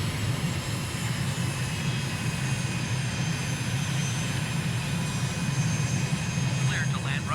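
A light aircraft's engine drones steadily on approach to land at runway 31, a constant loud hum with a faint radio chirp near the end.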